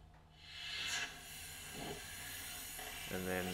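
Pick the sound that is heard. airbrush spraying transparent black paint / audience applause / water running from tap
airbrush spraying transparent black paint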